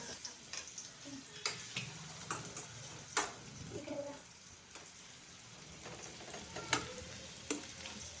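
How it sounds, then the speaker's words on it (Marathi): Chopped onion sizzles in a pan for Maggi noodles, a soft steady fry broken by clicks and scrapes of stirring, with little or no talk. "आता जात आहे कांदा"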